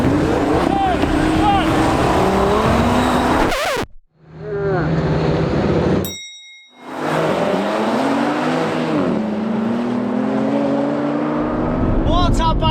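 Audi RS3s, one stock and one stage 1 tuned, launch against a BMW M3 Competition in a drag race, engines roaring loud and close with revving climbs, a brief dip as the cars are briefly quieter, then sustained full-throttle noise.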